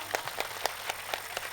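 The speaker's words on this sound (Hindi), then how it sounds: "जोरदार तालियां बजाओ" An audience claps at a religious discourse honouring someone with a gold ring, a fairly faint burst of quick, irregular hand claps with no voices over it.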